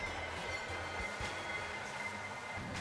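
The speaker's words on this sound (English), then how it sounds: "That train hit me." A train rumbling past in a Mario Kart 200cc race on Diddy Kong's track, a steady low rolling rumble with rhythmic clatter under continuous game music and engine noise, no voices.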